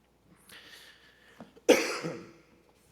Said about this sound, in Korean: 제가 아직 잔기침이 좀 안 떨어졌어요